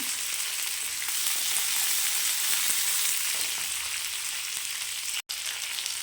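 Cashews fry in hot oil for mutton varuval, giving a steady, bright, close sizzle that runs unbroken, apart from one brief dropout near the end.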